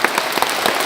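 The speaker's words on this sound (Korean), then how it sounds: "큰 박수로" Brief, loud applause from an audience at a Catholic priests' political protest mass in Jeonju, a close burst of many hands clapping.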